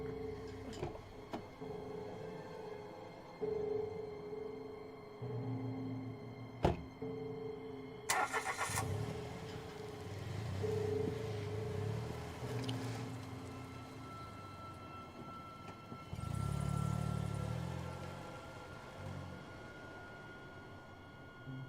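A car engine starts up, then a louder rush and rumble as the car pulls off and drives away, set among the ambient sounds of a short horror film scene.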